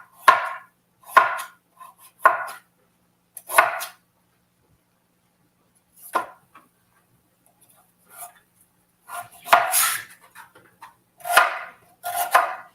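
Fresh ginger is minced with a knife on a board in about a dozen separate, sharp chopping bursts with short silent gaps between them.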